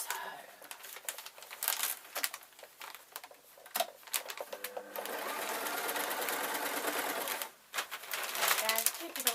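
A home sewing machine stitches fabric for a hanging shoe rack, running in bursts of fast steady whirring, then one long continuous run with a short pause. It is close and fairly loud, with no talking.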